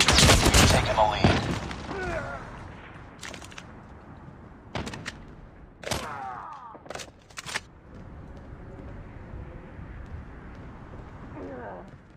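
Gunfire in the mobile shooter Call of Duty Mobile comes as sharp, loud bursts that are heavy at the start and then break into scattered separate shots, with game sounds in between.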